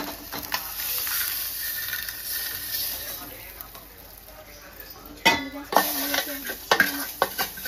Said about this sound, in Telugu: ఇప్పుడు మా మమ్మీ అయితే మిక్స్ చేస్తుంది.